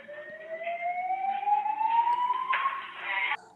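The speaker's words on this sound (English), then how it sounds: "now the fire alarm goes off" A single electronic alarm tone sweeps steadily upward in pitch for a few seconds, loud and piercing, then cuts off abruptly.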